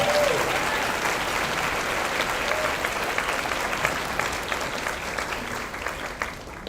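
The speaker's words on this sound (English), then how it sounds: "Can we give her a round of applause?" An audience at an awards ceremony honoring optimal aging gives steady, dense applause that fills the room at an even level, fading slightly toward the end, with no talk over it.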